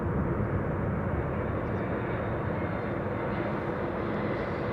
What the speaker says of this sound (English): You're hearing an Embraer 175 landing.